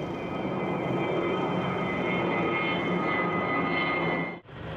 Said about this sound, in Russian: В небе над Заславским водохранилищем первая репетиция воздушного парада.